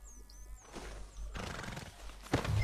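A horse whinnies in Red Dead Redemption 2, with rustling movement and a burst of hoof or gear noise near the end.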